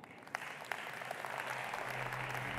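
An audience at a tourism conference gives dense, steady applause that swells slightly and carries on for the whole span, with no speech over it.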